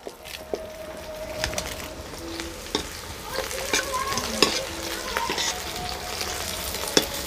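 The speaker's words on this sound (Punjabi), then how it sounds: "ਆਪਾਂ ਪਹਿਲਾਂ ਥੋੜ੍ਹੀ ਜਿਹੀ ਲੱਸੀ ਪਾ ਕੇ ਘੋਲਾਂਗੇ ਇਹਨੂੰ।" Gram flour being whisked with buttermilk in a bowl for Punjabi kadhi, a busy continuous scraping and stirring with occasional tapping clicks, alongside a faint sizzle from a pan nearby.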